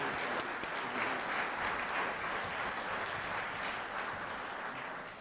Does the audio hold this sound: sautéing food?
no